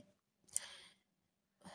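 A sick cook coughing: two short, faint bursts separated by a second of quiet, close to the mic with no speech.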